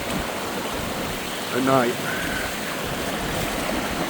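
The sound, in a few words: river flowing and rising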